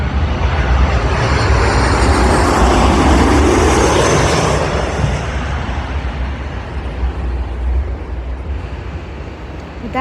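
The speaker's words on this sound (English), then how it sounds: "here comes another aircraft coming in. Another 737." A Boeing 737 airliner comes in to land at Midway airport, its loud engine roar building and holding steady before easing slightly as it passes, with no talk.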